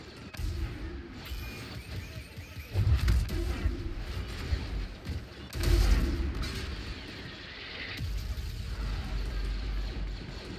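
Grenade blasts in Star Wars Jedi Fallen Order, two heavy booming explosions a few seconds apart over a rumbling game soundscape, with lighter thuds and sustained low noise around them.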